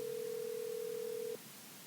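A steady electronic telephone tone holds unbroken for over a second as a call to an angler connects, then cuts off abruptly into quiet line hiss.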